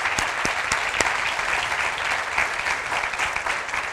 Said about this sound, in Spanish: quiero dar un aplauso muy fuerte a Laura, que de verdad se lo merece